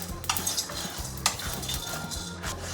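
Spices being dry-fried and stirred in a pan, with soft scraping and clinking of a utensil against the metal, a few sharper knocks, and a faint sizzle beneath, heard close with no talking.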